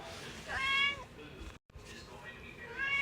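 A person imitates a cat, giving two drawn-out meows with a short pause between them, close and clear.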